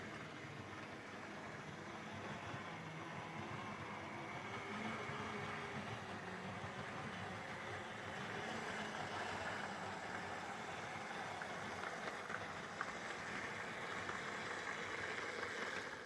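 Lima E151 electric model locomotive running with worn traction tyres, giving a faint, continuous motor whir and rolling rumble with slight wobbling unevenness, steady and unbroken for the whole stretch.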